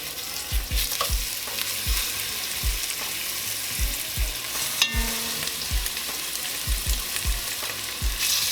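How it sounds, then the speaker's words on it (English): Short ribs searing in a hot pan crackle with a loud, continuous sizzle, punctuated by a string of soft thuds and clatters as pieces are set down and moved. "what we're looking for is a nice pan sear on our short ribs"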